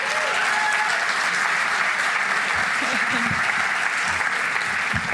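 A crowd at an awards ceremony gives a dense, steady round of applause that holds throughout, with a voice speaking faintly underneath.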